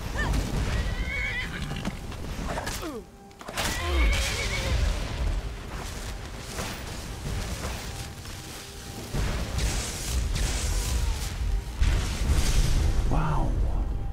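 A horse whinnies loudly amid hoofbeats, thuds and clashing sounds in the video game Skyrim, with a second neigh near the end.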